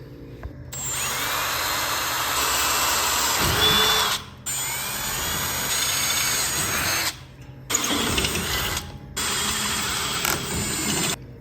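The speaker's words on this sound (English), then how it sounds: "So I'm gonna drill some clearance holes out." Power drill boring clearance holes near the master cylinder on a 1964 Datsun 320 pickup, a steady high whine in several bursts separated by short pauses, close and loud with no talking.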